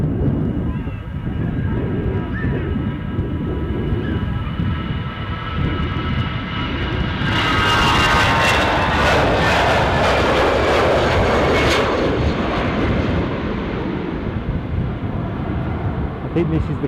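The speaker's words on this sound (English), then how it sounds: "EasyJet off to Milan." EasyJet airliner departing Amsterdam Schiphol for Milan, its engines a loud, steady roar that swells into a broad rushing peak midway before easing off, with voices talking underneath.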